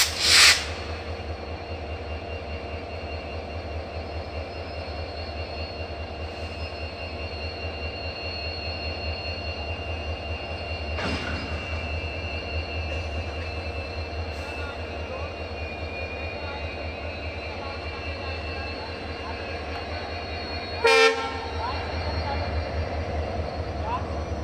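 Two banker locomotives are coupled onto the Poorna Express at Castle Rock station, with a steady diesel engine drone throughout, a loud coupling clank at the start and another sharp jolt near the end.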